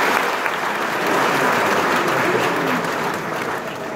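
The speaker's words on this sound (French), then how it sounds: "Encore des applaudissements pour monsieur le recteur." Audience applause for the rector of Université Alioune Diop de Bambey after his speech, a steady dense wash of clapping that holds loud for the full stretch and eases slightly at the end.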